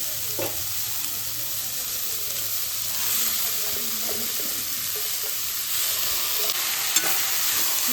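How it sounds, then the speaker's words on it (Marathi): Washed rice and dal tipped into a hot oil tempering for masala khichdi, giving a steady close sizzle with scraping stirs and a few clinks, no talking. "आता याच्यात आपण तांदूळ आणि डाळ धुतलेली ती घालूया."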